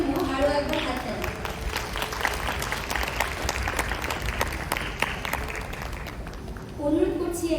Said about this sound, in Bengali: এদের সকলের জন্য আরো একবার হাততালি।